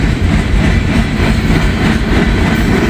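A train rolls past on the railroad near the New Miami yard north of Hamilton, Ohio, a loud, continuous close rumble of wheels and cars with no break.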